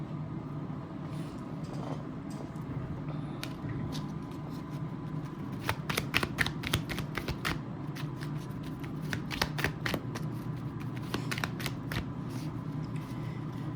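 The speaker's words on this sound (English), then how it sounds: "Cards flying on the floor again." Playing cards being gathered up from the floor, with a run of close, crisp riffling and flicking bursts over a low steady background hum, clustered in quick flurries through the middle and end.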